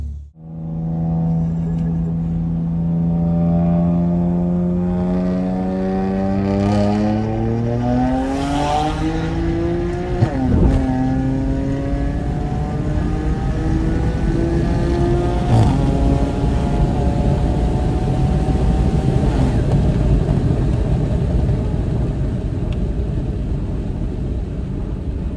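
A sleeper BMW 335i with an automatic gearbox and a hybrid turbo accelerates hard. The loud engine note climbs steadily through the gears for over twenty seconds, with a brief break at a shift, close and without talk.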